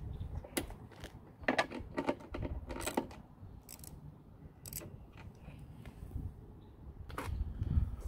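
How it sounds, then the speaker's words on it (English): An 11mm ratchet tightens a bracket on a Ram TRX, quiet close metallic clicks and ticks in irregular short bursts over faint background noise, without speech. "we're going to secure it with an 11mm ratchet in one hand"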